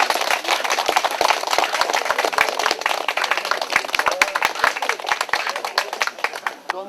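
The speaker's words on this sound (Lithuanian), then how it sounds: "Dabar gali būti ir plojimai." Guests clap together at a Romuva christening ceremony in Ožnugaris, with many close, sharp claps forming a dense, lively round of applause that runs on without pause.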